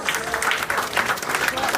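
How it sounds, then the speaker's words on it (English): Warm applause from an audience at a university event, a brisk, dense burst of many hands clapping, fairly close and evenly sustained through the short stretch. "let's give everyone a warm round of applause."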